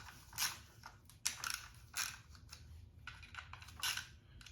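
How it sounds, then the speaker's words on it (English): A ratchet snugs the clutch cover bolts on a 2012 Honda CRF450R dirt bike, giving irregular short clicking bursts up close and faint, with no talk. "Don't crank on your ratchet, just give it a little snug."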